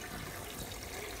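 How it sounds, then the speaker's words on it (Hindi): Water pours into a cooking pot of mutton trotters, a steady splashing gush that stays even and close throughout. "इसमें पानी ऐड कर रही हूँ"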